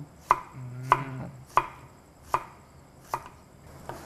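A knife chops an onion on a cutting board with six crisp, evenly spaced strikes, close up and with no talk.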